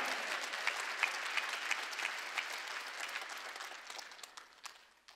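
A church congregation claps together in a rhythmic, evenly spaced beat during a worship service, the sharp collective claps fading gradually toward the end.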